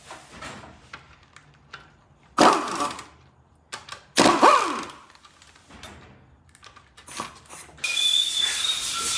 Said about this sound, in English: Removing all the timing cover bolts.